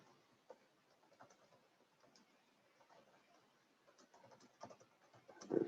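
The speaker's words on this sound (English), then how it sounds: "And let me finish typing." Fingers type on a computer keyboard during a calculus class session. Quiet, quick clusters of key clicks sound close and continuous, then grow louder and busier near the end, with no talking.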